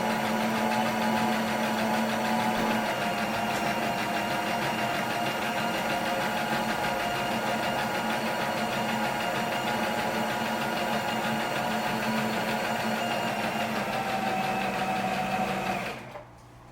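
A Brother XL-3750 sewing machine stitches a buttonhole, running as a steady, close mechanical whir with a rapid needle rhythm that holds constant before stopping abruptly at the end.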